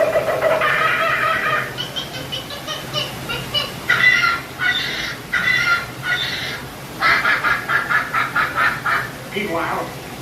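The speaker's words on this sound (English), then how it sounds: "Suddenly, the treetops explode in a frenzy of outraged birds." Squawking and honking bird effects on the Jungle Cruise ride at the Magic Kingdom, Walt Disney World, rising in repeated frantic bursts with short pauses between, loud and close, with voices talking over parts of it.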